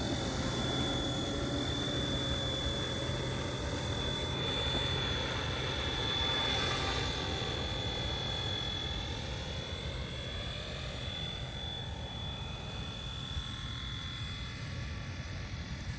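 A FlyWing Bell 206 RC helicopter with a three-bladed head comes in to land, its steady high-pitched motor whine and rotor drone continuous and fairly close throughout, fading slightly toward the end.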